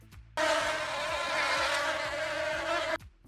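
A loud, close insect buzz drones steadily for about two and a half seconds, then stops abruptly.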